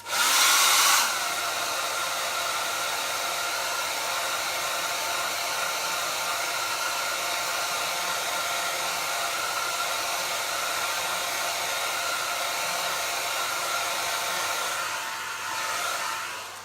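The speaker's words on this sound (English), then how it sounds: "I'm going to use the hairdryer again." A hair dryer blows steadily at close range, a continuous loud airy whir with a brief louder burst at the start and a slight dip near the end.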